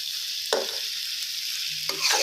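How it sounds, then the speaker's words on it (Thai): Chinese sausage for fried rice goes back into a hot pan and stir-fries with a steady, bright sizzle, and two quick scraping strokes of a spatula cut through the hiss. "อ่าใส่กุนเชียงลงไปครับที่เราทอดเมื่อสักครู่นะครับ"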